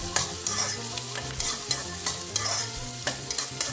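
Onions frying in oil for mutton biryani, a bright sizzle broken by repeated scraping stirs of a spoon in the pan, close and moderately loud, with no talking.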